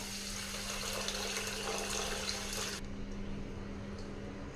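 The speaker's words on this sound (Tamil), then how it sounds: "இதில் ஒரு ரெண்டு டம்ளர் தண்ணி சேர்த்திக்கலாம்" Water pours into a vessel of washed varagu (kodo millet) rice to soak it, a close, steady splashing rush that stops abruptly partway through, leaving a quieter hum.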